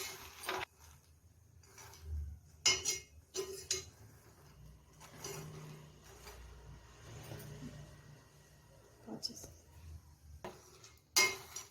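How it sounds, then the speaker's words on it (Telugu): Dry fox nuts (makhana) roasted in a pan with nothing added give off sparse clinks and rattles as they are moved around, with quiet gaps between the bursts. "ఇప్పుడు ఈ మఖానాని ఇందులో ప్యాన్లో వేసుకుందాము, రోస్ట్ చేసుకుందాము"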